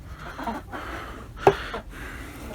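White hens in a coop, clucking softly while eggs are gathered; a few short, close clucks with one sharper call midway over quiet background.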